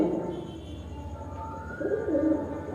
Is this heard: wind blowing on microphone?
no